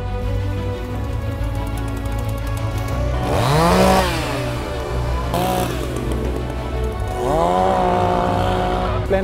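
A chainsaw engine runs steadily during a rhino dehorning procedure, droning loud and close, with its pitch rising and falling as it revs up in a few surges. No one speaks over it.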